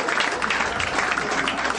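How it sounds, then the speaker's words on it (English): A short burst of audience applause at a comedy show, many hands clapping in a dense, steady wash over the brief moment. "Ladies and gentlemen, can I get a round of applause"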